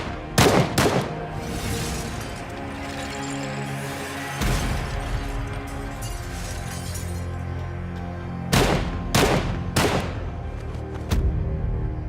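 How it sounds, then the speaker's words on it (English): Gunfire from gunmen bursting in: several sharp, loud bangs in quick clusters, a pair early, one near the middle and a rapid burst of three toward the end, over a steady dramatic backdrop. "Without warning, 4 gunmen burst in and begin shooting."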